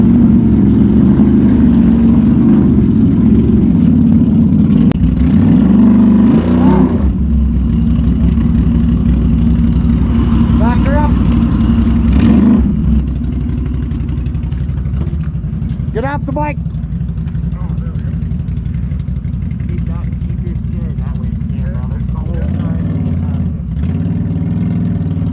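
A Can-Am Outlander ATV towing during a breakdown rescue drones loudly and steadily, revving up and settling to a lower idle partway through. Voices talk over the engine.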